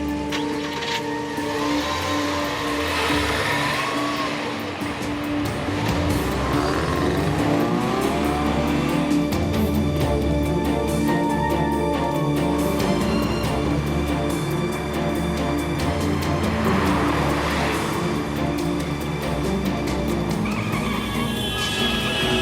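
A car racing fast during a chase, its engine droning and revving continuously with tire noise and passing whooshes, loud and close throughout, with dramatic music layered over it.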